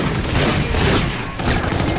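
Dense gunfire from a shooting video game, with rapid overlapping shots and booms forming a loud, continuous barrage throughout.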